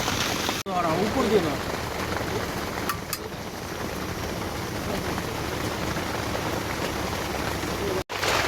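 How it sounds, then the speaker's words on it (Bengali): Heavy rain pours down over an outdoor picnic spot in a jungle, a dense and loud steady roar of drops close by. A person talks over the downpour, and brief dropouts break the sound near the start and end. "মারাত্মক লেভেলের বৃষ্টি হচ্ছে, মারাত্মক।"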